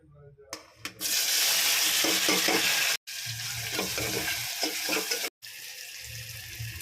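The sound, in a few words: onions, tomatoes and ginger garlic paste frying in oil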